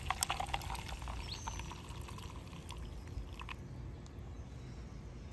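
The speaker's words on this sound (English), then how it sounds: "I'm gonna go ahead and pour this in" Sun-brewed cold brew coffee poured through a gold cone filter: a faint, steady liquid trickle and splash in a quiet outdoor setting, with light background noise.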